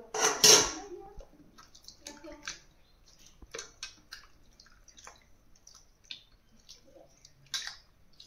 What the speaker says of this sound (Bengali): এবার ঠান্ডা জলে ভালো করে ধুয়ে নিতে হবে।